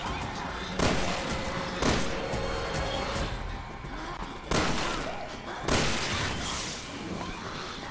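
Gunfire in a Resident Evil video game: four sharp, loud shots spaced roughly a second apart, each followed by a reverberant rumble and decay, over a steady background of game ambience.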